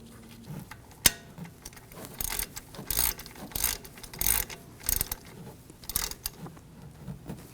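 Metal bolt being threaded and tightened into a brake caliper on a 2015-2022 Chevrolet Colorado, giving repeated short ratcheting and clicking bursts with a sharp clink near the start, close and fairly quiet, with no talk.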